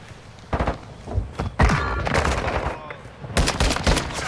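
Bursts of TAC-M rifle fire in a Modern Warfare 2 multiplayer match, a few rapid clusters of loud shots separated by short pauses, with other game noise in between.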